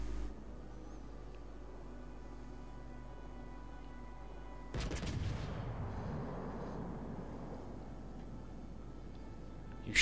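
Warship guns fire once in World of Warships Legends, a broad booming blast that rolls into a long rumbling decay over steady background hum.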